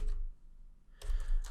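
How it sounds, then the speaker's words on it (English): Someone types a command on a computer keyboard, with a quick burst of key clicks, a short pause and then another cluster of taps, close and fairly quiet. "I'm just typing yarn build."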